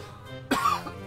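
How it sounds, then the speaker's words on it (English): Single cough from a person with a cold, turned slightly away, a sharp close burst followed by a brief rasp, then quiet. "I turn my face to cough"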